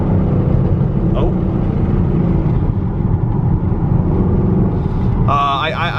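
Chevrolet Camaro SS 1LE with a manual transmission driving on the road, a steady low engine drone and road rumble running throughout, with a brief higher whine near the end.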